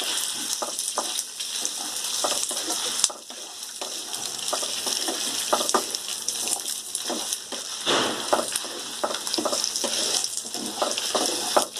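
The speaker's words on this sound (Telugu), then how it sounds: "అందులోకి ఎండుమిర్చి వేసుకొని వేయించుకోవాలి." Dried red chillies frying in hot oil in a pan for a Telugu stuffed brinjal curry, giving a steady close sizzle with frequent crackles and spits, briefly dipping twice before resuming.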